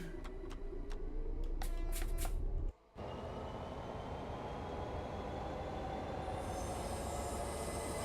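A train runs in the Train Sim World 5 video game with a continuous rumbling drone and a faint high wheel squeal. Sharp clicks come early, then a brief cut, then the steady running noise resumes to the end.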